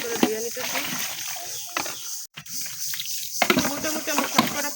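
Water sloshes and splashes repeatedly as pots are washed on a farm, with irregular wet bursts and a brief pause midway, fairly close and moderately loud.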